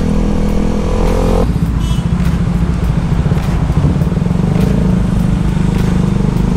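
A KTM Duke 390 and a Kawasaki Z1000R cruise along an expressway. The engines drone steadily, with a gear shift early on, under constant wind and road roar.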